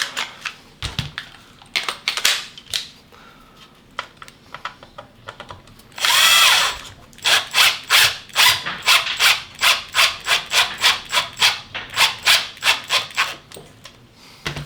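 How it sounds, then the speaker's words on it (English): A drill runs in short bursts, one longer steady whir and then a rapid series of brief pulses, close and loud with no talking. "We don't need a drill press around here because we got the drill press arm"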